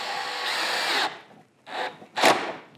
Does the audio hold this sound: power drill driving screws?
yes